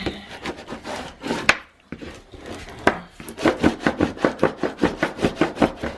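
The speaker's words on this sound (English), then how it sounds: "Alright, I'm going to burnish this down really good." Paper on a mini album cover is burnished down with a firm tool in quick, close rubbing strokes. A short pause breaks the strokes, then a faster, even run of scraping follows.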